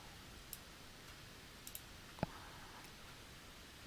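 Computer mouse clicks, a few sharp isolated taps spread over a quiet near-silent stretch, with one clearly louder click in the middle.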